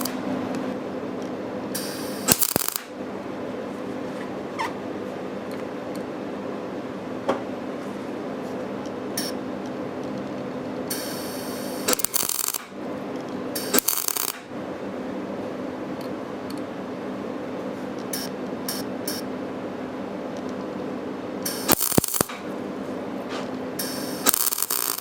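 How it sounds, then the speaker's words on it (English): Welding around a part for a Maytag 72 engine gives a steady, close crackling buzz that runs in long stretches, broken by short pauses and sharp clicks as the arc stops and restarts. "now he's just going to go and put a nice weld around the rest of it."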